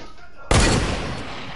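A single sharp gunshot in a PS4 game cracks out loud and close after a quiet stretch, its boom decaying slowly over the following second.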